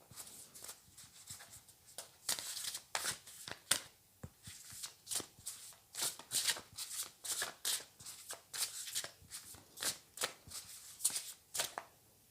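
Tarot cards being shuffled by hand in a steady run of crisp riffling bursts, close and fairly loud, repeating about every half second with no talking.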